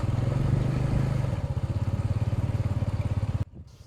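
A motorcycle ridden along tea garden roads in Sreemangal: a close, steady putt-putt engine pulse with a low rhythmic throb, cutting off abruptly near the end.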